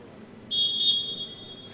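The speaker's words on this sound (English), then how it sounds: "There's the whistle." A jai-alai referee's whistle signals the start of the third set, one sharp, sustained shrill blast that cuts in over a quiet hall and lingers for about a second before fading.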